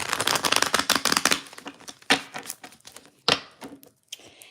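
Rapid riffling clatter of cards being shuffled, a burst of quick flicks followed by a few scattered snaps and taps, close and fairly quiet.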